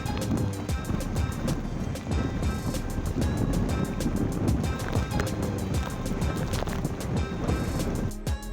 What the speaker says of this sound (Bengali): সাংঘাতিক ঝোড়ো হাওয়া চলছে নদীর জল যথেষ্ট উত্তাল